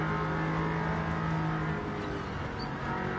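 Race car engines in Gran Turismo 7 drone steadily at high revs, a continuous loud whine with shifting pitch and a faint passing car, no talk over it.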